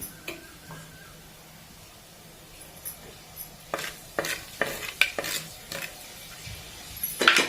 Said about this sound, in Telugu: ఇప్పుడు ఇదే ఆయిల్లో కొన్ని మెంతులు వేసుకుందాం